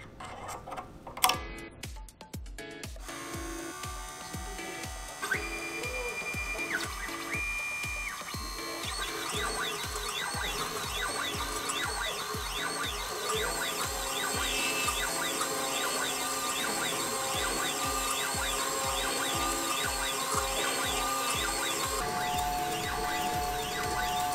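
A radius end mill cutting a LEGO-brick mold on a desktop milling machine: steady, close machining whine with a rapid regular ticking pulse and shifting tones, continuous throughout after a few sharp clunks at the start.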